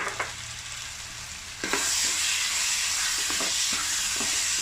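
Green chillies and curry leaves stirred in a frying pan for spicy chicken pasta. A few quiet scrapes give way to a sudden loud, sustained sizzle, with repeated stirring knocks continuing close up.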